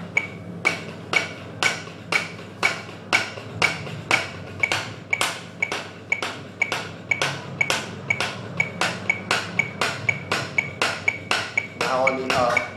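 A drum warm-up played alone in steady 16th notes, with sharp, evenly spaced accented hits repeating at a brisk, regular pulse, close and clear, with a short flurry near the end.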